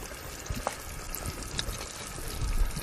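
Frying oil draining off freshly fried buffalo fish, a soft close trickle and dribble of liquid with light crackles and small taps, steady and quiet.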